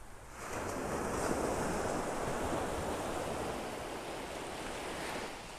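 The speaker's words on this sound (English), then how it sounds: "The waves have been battering this tree" Ocean waves breaking on the beach at Delnor-Wiggins, a steady wash of surf with some wind noise on the microphone, continuous and fairly soft with no talking.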